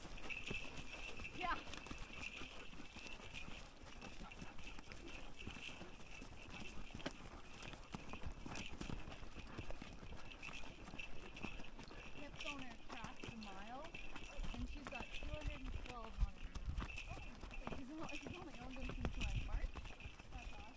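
A horse's hooves clip-clop in a steady walking rhythm, fairly faint and mixed with rustling and outdoor ambience, while people talk over it.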